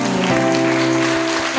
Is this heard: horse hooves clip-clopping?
no